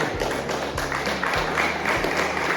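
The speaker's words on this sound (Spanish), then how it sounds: "Denle un fuerte aplauso al Señor" A church congregation claps loudly and steadily over organ-like sustained music during a worship service, the applause dense and continuous throughout.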